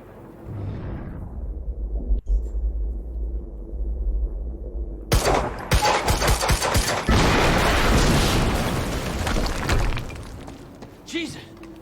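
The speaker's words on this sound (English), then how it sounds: "we just heard an explosion near the harvesting perimeter." In the Quantum Break video game, a quiet rumbling stretch gives way to a sudden loud explosion with crashing debris and crackling bursts that slowly die down.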